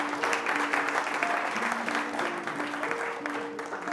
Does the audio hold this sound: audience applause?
yes